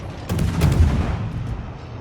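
The naval guns of a Gearing-class destroyer fire in World of Warships, a heavy low boom that swells and then fades into a rolling rumble.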